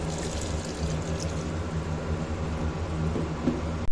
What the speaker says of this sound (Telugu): కొంచెం వాటర్ వేసుకుందాము